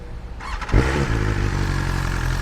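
A BMW S1000R motorcycle engine fires up with a sharp bark, then settles into a loud, steady, throbbing idle close by, with no talking.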